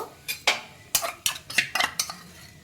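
A spoon scrapes and clinks against a wok while ginger paste and cumin are stirred in hot oil, about eight sharp separate strokes in an uneven rhythm, with no voices.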